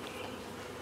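Bees hum steadily at a beehive, a dense close buzz of many insects filling the moment without pause.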